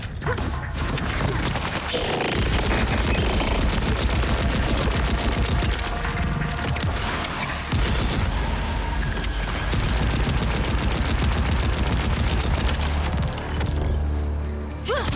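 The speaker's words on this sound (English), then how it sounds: "Okay, let's try out my SMG." SMG fire in the video game Borderlands 4: dense, rapid bursts of automatic gunfire with mechanical clatter and crashes, loud and nearly continuous for about fifteen seconds.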